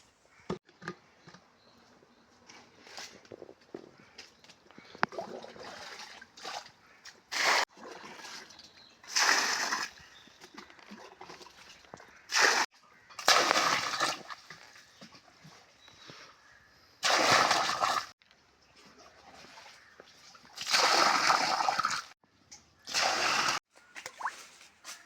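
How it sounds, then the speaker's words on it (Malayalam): Water being bailed from a drained fish pond with a bucket, heard as a series of separate splashing scoops and pours at irregular intervals, fairly close, with quieter gaps of dripping and movement between them. "ഇനി ബക്കറ്റിന് കോരിക്കളയിലുള്ള മാർഗം"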